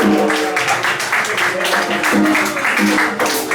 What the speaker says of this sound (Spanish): por favor, un aplauso para David del Pelirroja Merchi